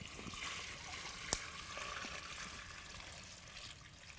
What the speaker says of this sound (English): we're going to cover the vegetables with water because we didn't have enough stock